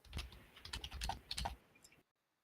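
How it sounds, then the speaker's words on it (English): Quick, irregular keystrokes on a computer keyboard, close and fairly quiet, clattering in bursts for about two seconds before stopping into silence. "What are you typing?"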